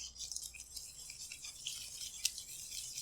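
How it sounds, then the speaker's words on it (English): Banana waffle batter with flour and milk whisked in a bowl, a soft, fast, continuous scraping and swishing, quiet and close, with a faint clink near the end. "We're going to whisk this all together."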